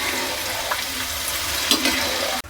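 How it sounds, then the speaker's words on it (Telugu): Green chillies fry in hot oil with a steady, close sizzling hiss that keeps up evenly for a couple of seconds before cutting off abruptly. "ఈ మిర్చి కూడా మనకు వేగిపోయింది కదా"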